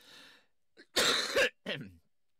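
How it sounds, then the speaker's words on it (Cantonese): A single sharp cough bursts out close to a microphone during a Cantonese talk program, followed by a second shorter cough after a brief pause, with a faint breath before it. "咳咗一下添"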